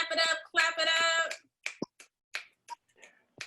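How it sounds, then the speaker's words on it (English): Sparse finger snaps from an audience at a youth media arts camp showcase, scattered and uneven after a brief stretch of voice at the start. "Snap it up, clap it up."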